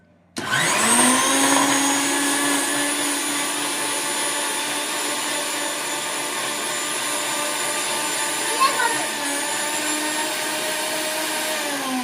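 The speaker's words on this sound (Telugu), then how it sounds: "మిక్సీ పట్టుకోవాలి" A mixer grinder starts with a sudden loud whine and keeps running at a steady high-pitched roar for several seconds, close and constant, grinding ingredients for a homemade bread pudding.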